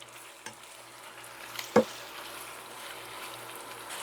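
Whole squid cooking in a pan for adobong pusit, a faint steady sizzle with a couple of brief knocks of utensil against pan.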